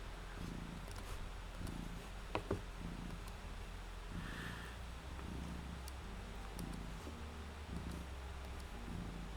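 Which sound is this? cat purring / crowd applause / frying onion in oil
cat purring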